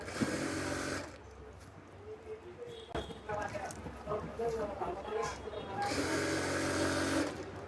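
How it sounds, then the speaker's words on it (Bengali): A sewing machine stitches fabric alongside elastic while making palazzo trousers, a steady close whirring that starts and stops in short runs. "এখানে সেলাই করার সময় আপনাদের খেয়াল রাখতে হবে এই যে রাবারের উপর যেন সেলাই না ওঠে"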